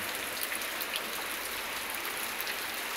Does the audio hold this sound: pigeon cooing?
no